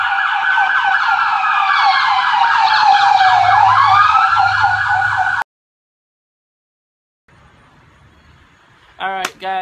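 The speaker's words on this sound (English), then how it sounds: "that's ambulance in the background" An ambulance siren wails loud and close, sweeping in rising and falling tones for about five seconds before the sound cuts out abruptly, with quiet background and a short burst of noise near the end.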